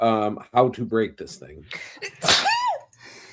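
A person gives a single short sneeze in the middle of a stretch of talk, with speech before and after it.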